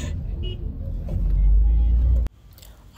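Inside a car moving through busy traffic in Ashaiman, Ghana, a low engine rumble swells and then cuts off abruptly, leaving quieter street sounds; voices are faintly present.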